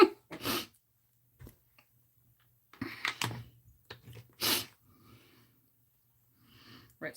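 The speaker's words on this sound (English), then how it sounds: "Gotta sneeze." A person sneezes up close: sharp, explosive bursts of breath separated by quiet pauses and soft breathing.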